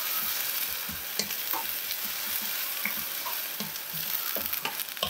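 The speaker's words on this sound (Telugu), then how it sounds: "ఆయిల్ చూసారా కరెక్ట్గా ఉల్లిపాయలకి సరిపోయింది." Onions frying in oil in a pan, a continuous dense sizzle with scattered pops and scraping stir sounds, close and steady throughout.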